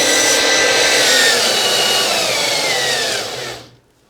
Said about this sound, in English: you can hear the speed of the drill change